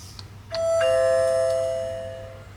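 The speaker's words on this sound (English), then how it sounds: "This lock offers numerous options, including the ability to use it as a doorbell." A SwitchBot Lock Ultra smart lock used as a doorbell sounds a clear two-tone electronic chime, a bright ding followed by a lower dong that rings out and slowly fades, close and alone over faint background hum.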